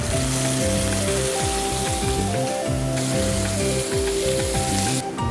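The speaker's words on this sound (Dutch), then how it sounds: "En dan gaan we hem even bakken." Steady, loud sizzling of food frying in a pan, with a continuous crackling hiss and tonal music-like hum underneath.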